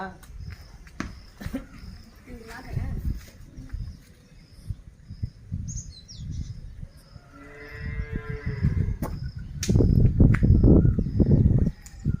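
Year-old Hallikar calves on a farm near Kengeri, Bengaluru, mooing several times, some calls close and loud, mixed with people talking nearby and light outdoor background noise.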